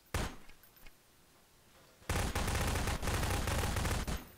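Gunfire in a Garry's Mod Prop Hunt match: one sharp shot, a quieter pause, then a sustained loud burst of rapid automatic fire, close and harsh.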